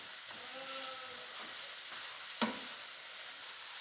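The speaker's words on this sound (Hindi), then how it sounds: "अब हम इसको मिक्स कर लेंगे अच्छे से, इसे सौते होने देंगे" Filling for a homemade Subway-style sandwich is mixed and sautéed in a pan, giving a faint steady sizzle with a few soft scrapes and one sharp clink midway.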